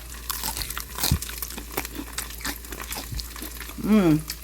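Crunchy bites and chewing crackle of crunchy oatmeal tofu close to the mic, with brief faint sounds between and a short voiced hum at the end.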